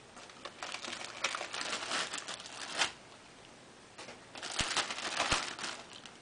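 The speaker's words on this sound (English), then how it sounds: "I mix it in a plastic bag" Plastic bag crinkling and rustling in bursts while cream cheese is mixed inside it, with a louder stretch at the start and another after a short pause.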